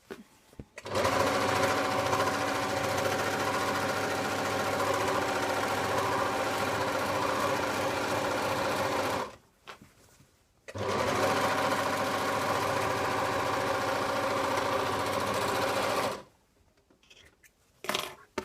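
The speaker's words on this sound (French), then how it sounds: "je vais utiliser la surjeteuse. Et je vais venir piquer tout le long." An overlocker serging the edge of a pillowcase, a loud, steady, close mechanical hum that runs in two long bursts of about eight and six seconds with brief quiet gaps between them, and no talking.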